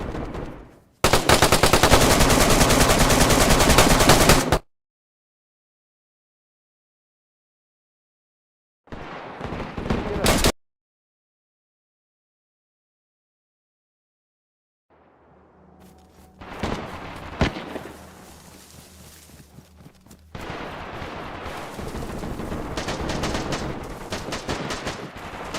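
M4 rifle fire in the DayZ video game, heard as a loud, sustained burst of rapid automatic shots lasting a few seconds, then a second short burst, followed later by scattered, denser gunfire and rumbling clatter.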